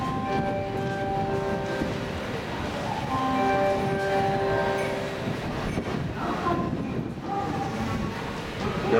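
A Tobu 6050 series train departs Tobu-Dobutsu-Koen Station, rumbling steadily with tonal squeals and whines from the wheels and motor, staying loud and close throughout as it moves.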